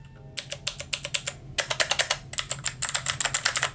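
Typing on an RK Royal Kludge R75 mechanical keyboard with blue switches, crisp clicky keystrokes in irregular quick runs and pauses, close and alone.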